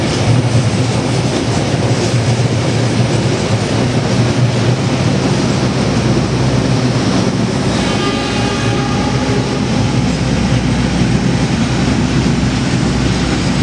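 The Argo Parahyangan passenger train rumbles steadily through a station for the whole stretch, loud and close, with rolling wheel noise and faint rhythmic clatter, and no voices.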